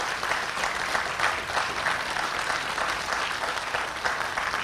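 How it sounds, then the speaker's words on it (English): Audience at the closing remarks of the Lewis and Clark Bicentennial giving federal agency partners a big round of applause; sustained, even clapping from a sizable crowd, close and loud, with no voices over it. "I think these guys need a huge round of applause"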